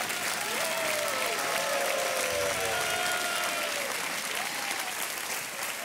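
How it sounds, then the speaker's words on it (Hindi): A television quiz show studio audience claps steadily and warmly in a continuous wash of many hands, while faint musical tones sweep in the background. "तालियां बजती रहनी चाहिए"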